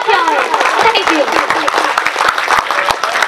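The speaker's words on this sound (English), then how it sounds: "Give a big round of applause for her" Audience applause following a speech at a live event, a dense sustained patter of many hands clapping at close to moderate distance, steady throughout with crowd noise and voices mixed in.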